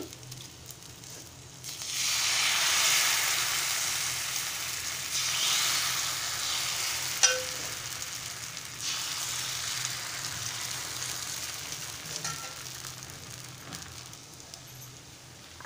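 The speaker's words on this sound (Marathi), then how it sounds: "तव्यावर असं तेल लावून घ्यायचं" Ghavane rice crepe frying with oil on an iron griddle, a steady close sizzle that rises after a quiet start and then holds, with a brief tap partway through and no talking.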